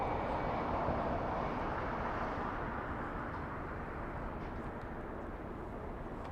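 A plane passes at Los Angeles International Airport with a broad, steady engine roar that fills the clip and fades slightly toward the end, distant and continuous with no voices.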